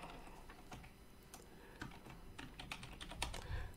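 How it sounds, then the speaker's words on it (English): Fingers tapping out an email address on a computer keyboard, a quiet run of uneven, closely spaced key clicks with a few slightly louder presses toward the end. "I type in an email address"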